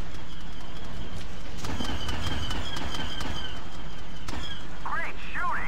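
Sniper rifle fire in Star Wars Battlefront 2 on the modded Rhen Var Ice Harbor map, several sharp shots spaced through the clip amid loud game sound, with a voice talking over it.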